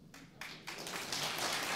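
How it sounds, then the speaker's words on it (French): An audience at a French historical debate breaks into applause, starting with a few separate claps and quickly building into a dense, continuous wash of clapping. "ces applaudissements me paraissent très bienvenus"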